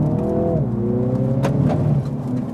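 The engine of a Mini GP3 revs hard while driving, a close loud drone whose pitch drops at a gear change and then climbs again, with brief bursts of exhaust noise.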